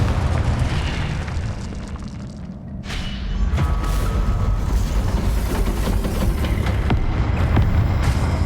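In the Hogwarts Legacy video game, Confringo fire spells blast in a continuous roar of loud, close booms and fiery crackle, with sharp bursts landing around three and four seconds.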